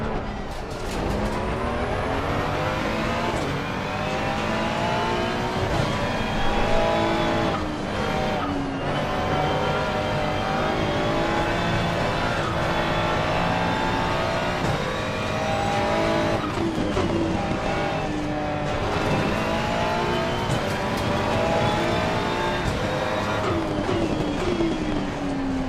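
Race car engine in Assetto Corsa Competizione, droning loud and steady throughout with gear shifts and rising and falling pitch, tire squeal at moments, no talk.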